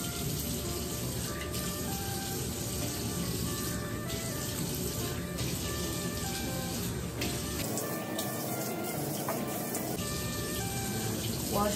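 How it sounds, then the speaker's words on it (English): Running tap water and cold water splashed onto a face with cupped hands at a sink in the morning, a steady close wash of water with brief splashy bursts. "I like to put a little cold water with my hands,"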